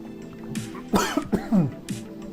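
Several sharp coughs close to the microphone, a quick cluster of three or four harsh bursts with throat clearing in between.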